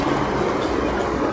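A train rumbles loud and steady through a Japanese subway station, a dense continuous roar with no voices over it.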